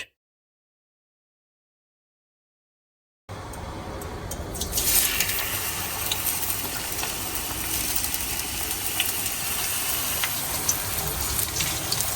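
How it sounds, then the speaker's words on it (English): Sliced onions deep fry in avocado oil, a dense, steady sizzling hiss that starts suddenly after a few seconds of silence and keeps on loud and close with small pops. "The deep fried onions first. I'm using avocado oil here."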